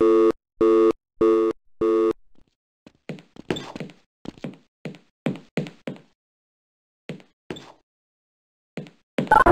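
A video game telephone busy tone beeps four times in steady rhythm, followed by a scattered series of soft knocks and thunks.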